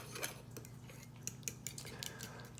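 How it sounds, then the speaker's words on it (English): Lemon juice is stirred into cocktail sauce for shrimp cocktail, with quiet, quick clinks and scrapes of a spoon against a bowl. "And we're gonna stir that in."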